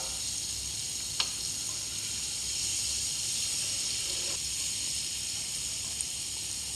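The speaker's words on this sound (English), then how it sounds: "So we've got 4 tablespoons of butter going in a hot skillet." Four tablespoons of butter melt in a hot skillet for a roux, producing a steady, even sizzle and hiss throughout, with a couple of faint utensil clicks, close by and without talk.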